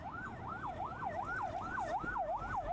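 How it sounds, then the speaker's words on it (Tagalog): Ambulance siren wailing in a rapid, steady up-and-down yelp, moderately distant on a road with faint traffic rumble, no talking. "May ambulansya."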